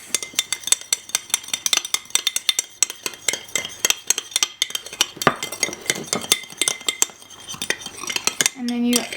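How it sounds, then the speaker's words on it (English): Roast vegetable salad is stirred vigorously in a bowl, a dense run of rapid clinks and scrapes of cutlery against the dish, close and loud, ending in a brief louder knock, with no talking. "we'll give it a really nice big stir to combine all of the ingredients"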